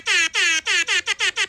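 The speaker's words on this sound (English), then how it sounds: "Yes, it's an air horn." An air horn played from a phone, a series of loud honking blasts, two longer then five shorter in quick succession, heard alone.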